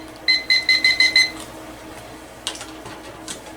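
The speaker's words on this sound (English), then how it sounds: "So I actually set a timer here for 5 minutes." A kitchen timer alarm in a veterinary animal-care setting beeps six times in a quick, evenly spaced burst, loud and close, followed by faint clattering in the background.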